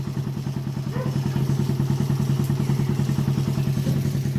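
A motorcycle engine warms up at idle nearby, a steady, even low chug with rapid regular firing pulses and a faint mechanical clatter, running alone without voices.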